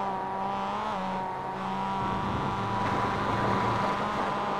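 A Mazda Miata race car in a sim racing game at Summit Point drones through a corner at speed, its engine note shifting pitch as it slows and picks up again, alone and moderately loud.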